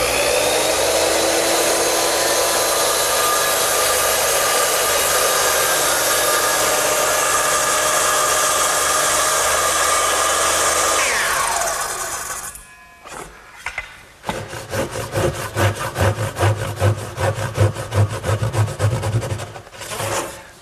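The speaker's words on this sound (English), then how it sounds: "to make the vertical or the rip cuts, I use the same gauge block, straight edge, and my circular saw." Circular saw making rip cuts in wood along a straight edge, a loud continuous whine for about twelve seconds, then a short pause and a rougher, rattling burst of cutting noise.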